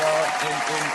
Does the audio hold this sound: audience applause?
yes